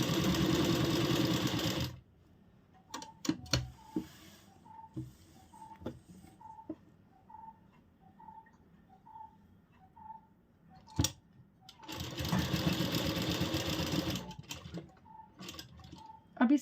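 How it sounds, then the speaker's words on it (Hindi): A sewing machine stitching a seam on a kaftan kurti whirs in two loud, close bursts, with quiet stretches between them full of small clicks and fabric handling. "हाथ से इसको थोड़ा सा सेट करते हुए सिलाई लगाएंगे।"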